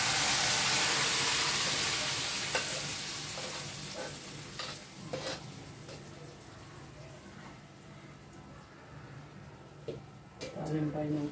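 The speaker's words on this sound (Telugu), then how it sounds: "పప్పు తాలింపు వేస్తున్నాం" Tempering (talimpu) with fried onion sizzles loudly into cooked dal, a strong hiss at first that gradually softens with stirring clinks and scrapes, while someone talks over it.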